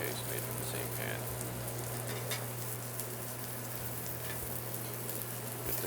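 Garlic fries in a pan, giving a faint, continuous crackling sizzle like light rain that stays even throughout.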